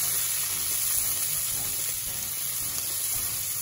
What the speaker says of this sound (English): Sort of saute them down a little bit.